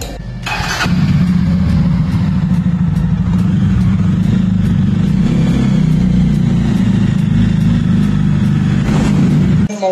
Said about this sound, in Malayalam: ഈ വണ്ടിയുടെ ജസ്റ്റ് സൗണ്ട് ഒന്ന് കേൾപ്പിച്ചാൽ